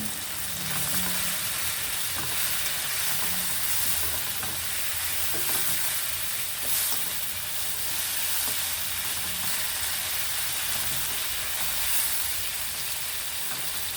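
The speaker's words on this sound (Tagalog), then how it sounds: "medyo palutuin na natin alamang" Shrimp paste (alamang) and ginger sizzle steadily in a pan as pakbet cooks, a continuous broadband frying hiss with occasional stirring clatter throughout, close and fairly loud with no talking.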